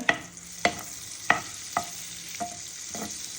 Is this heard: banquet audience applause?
no